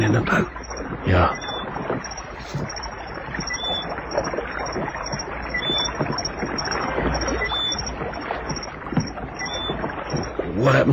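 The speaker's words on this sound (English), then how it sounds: "You'll never hear us swimming against the splash of his oars." Oars splashing as a rowboat pulls away in an old radio drama, a steady wash of rhythmic water strokes and wind running throughout, with faint speech underneath.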